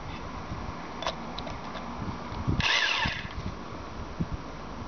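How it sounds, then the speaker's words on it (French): A power drill with a 10 mm bit bores into masonry for a heavy-load chemical anchor with M10 threaded rod. One short, sharp burst of drilling rises above faint background noise. "Donc là, il faut que je perce jusqu'à là."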